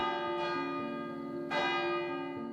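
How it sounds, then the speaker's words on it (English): A village bell rings again and again, sounding two loud, close strikes with long, rich ringing overtones that carry over into each other. "One silent night, the village bell starts ringing again and again."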